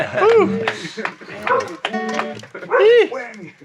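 A dog barks and yips in short bursts, some whiny and high-pitched, with people talking over it.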